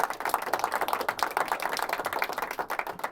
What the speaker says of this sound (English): That's a long round of applause.